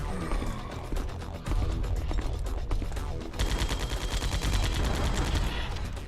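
Rapid, dense gunfire from the GameCube shooter Metal Gear Solid: The Twin Snakes, a loud continuous barrage of shots with mechanical clatter running throughout, growing more intense partway through.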